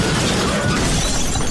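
A crash sound effect of a 40-ton wrecking ball smashing into a structure: a dense, loud roar of breaking and shattering debris that continues without a break, with no voices.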